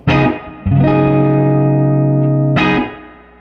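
A guitar chord played through a Fender Twin Reverb amp with a splash of reverb is struck and rings out sustained, followed by another strummed attack that decays into a lingering wash.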